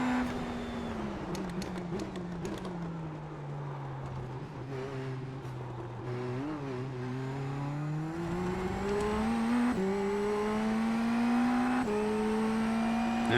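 Indy NXT race car engines droning at Spa-Francorchamps in sim racing, a steady whining tone that rises and falls with gear changes, another car audible nearby, no talking.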